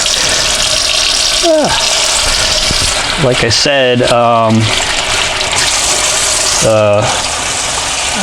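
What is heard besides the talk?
running water rinsing a sink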